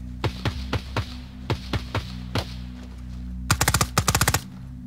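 Gunfire in the Ground Branch tactical shooter: a string of spaced single shots, then a fast close burst of rapid rounds near the end, loud and sharp with no talking.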